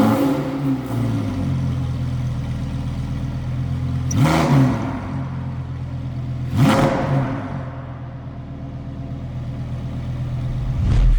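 A Lamborghini STO engine idles loudly up close with a throaty drone, then snaps into two sharp, rising revs a few seconds apart before settling back.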